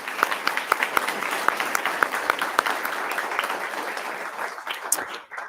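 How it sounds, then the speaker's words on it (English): Audience applause at a school board regular business meeting, steady clapping from a room of people that swells, holds for several seconds, then thins out toward the end. "Pause for applause."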